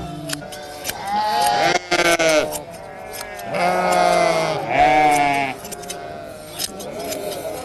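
Sheep in León, Spain, waiting for the early-summer shearing, bleating repeatedly and loudly at close range, several overlapping calls with brief pauses between them and no talk over them.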